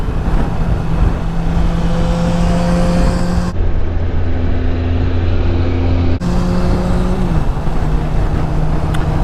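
A car passes a 2019 Kawasaki Vulcan S ABS motorcycle on the road, its engine hum rising and fading over the loud, steady drone of the bike and rushing wind.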